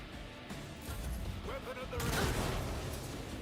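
Sniper gunfire in the video game Warhammer 40,000: Rogue Trader, a few sharp shots and crashes in a dense game soundscape, fairly loud and brief.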